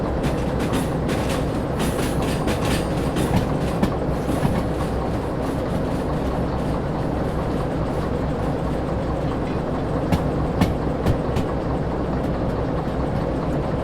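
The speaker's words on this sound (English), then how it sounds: "professional train driver going through" Train running on rails in the train-driving game Derail Valley: a continuous rumbling roll with steady clickety-clack wheel beats and a faint squeal, loud and constant for about fourteen seconds with no talk.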